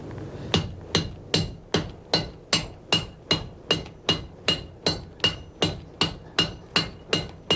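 A blacksmith's hammer strikes metal being shaped into a round handle, delivering about nineteen short, quick, evenly spaced ringing blows. Each hit is sharp and close, with no talking.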